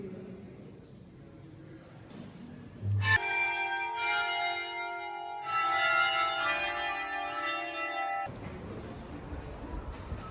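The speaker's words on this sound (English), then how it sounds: "The bells were ringing." Church bells in Reykjavik, Iceland ring out in two long resonant peals, their tones sustaining and overlapping, with quieter background noise before and after.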